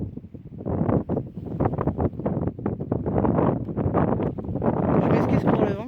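Gusty wind buffeting the microphone outdoors in a spring garden among flowering plum and peach trees, a loud, continuous rumbling roar that surges and drops throughout.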